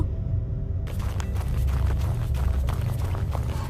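Hurried footsteps pound along in a quick, uneven rhythm over a low rumbling background, close and fairly loud, with no talking.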